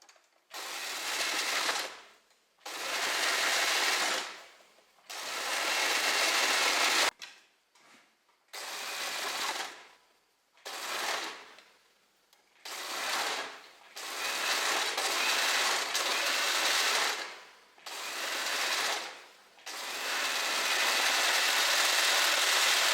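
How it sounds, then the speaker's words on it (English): An overlocker runs along a dress seam in repeated bursts of steady, fast mechanical whirring, separated by short pauses. It is close and continuous, with no talking. "I start overlocking till we come to the other end"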